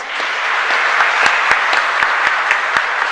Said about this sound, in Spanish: Un aplauso también para ellos.